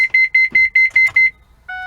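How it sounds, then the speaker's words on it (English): A youth van's child-check alarm beeps rapidly in an even series of about ten loud, high tones, then a steady chime sounds briefly after a pause. "I'm gonna release the park brake, and then I'm gonna turn it off, and you'll hear the alarm"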